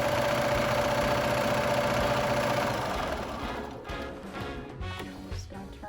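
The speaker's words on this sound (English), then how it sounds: "I'm just going to turn it once, sew a few stitches, and then back stitch again" A sewing machine stitches a fabric face mask with a steady, loud mechanical whirr. The motor slows and tapers off partway through, leaving softer, uneven clatter.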